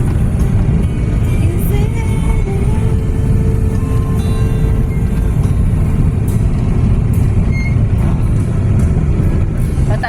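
A car's engine labours in a loud, steady drone climbing a mountain road between Clark and Tarlac, heard close from inside the vehicle with rumbling road noise throughout and faint pitch shifts as it strains.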